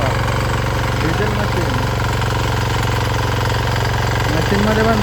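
A diesel-powered machine runs loud and close with a constant, rough, chugging drone throughout, while a voice is faintly audible beneath the engine noise.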